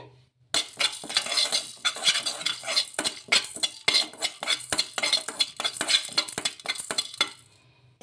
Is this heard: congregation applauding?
no